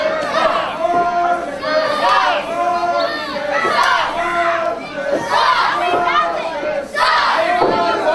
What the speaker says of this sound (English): Kind of an interesting reaction from the crowd here